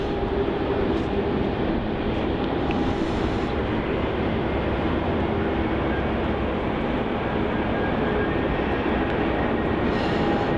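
Domestic jet airliners taking off on runway 34 at Melbourne Airport during the early-morning departure rush, a loud, steady engine roar filling the whole stretch with no talk over it.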